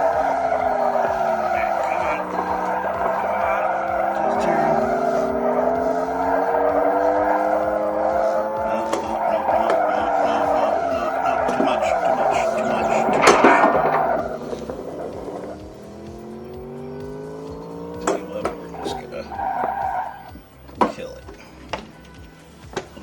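Race Drivin', a car racing arcade game on a compact cabinet, plays a steady engine whine whose pitch rises and falls, then a loud skid burst before the engine drops away to scattered clicks.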